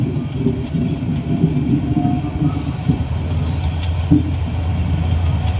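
A train slows down to stop, with rolling wheel rumble, clacks on the rails and brief high brake or wheel squeals, close and steady throughout.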